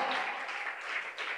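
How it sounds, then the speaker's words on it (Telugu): A congregation at a fasting prayer meeting claps together for God, a fairly quiet, continuous patter of many hands with slight swells. "ఒకసారి గట్టిగా చప్పట్లు కొడదాం గట్టిగా దేవునికి"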